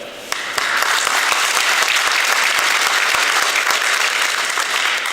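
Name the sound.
audience applause at a ribbon cutting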